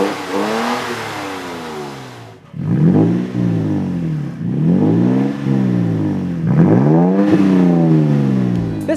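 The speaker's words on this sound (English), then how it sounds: "the Carbon Exhaust Progressive Series single exhaust system with a black tip and side exit" A 3.5-liter V6 Toyota Tacoma with a Carbon Exhaust Progressive Series single side-exit exhaust and black tip revs loudly and repeatedly, rising and falling in roughly four strong pulls of deep, crisp rumble, close and alone.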